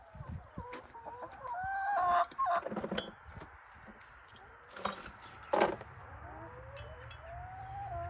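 Chickens clucking near a Bobcat skid steer during over-the-tire track maintenance, with repeated clucks, a rooster-like call and scattered cackles over a low background hum, fairly faint and without talk.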